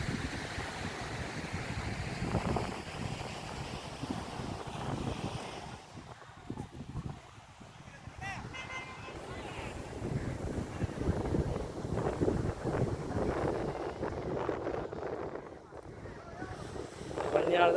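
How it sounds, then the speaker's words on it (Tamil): Wind and surf at Kovalam beach make a steady, broadband rush with gusty buffeting on the microphone and rolling wave wash. Muffled voices can be heard underneath. "கோவளம் பீச்."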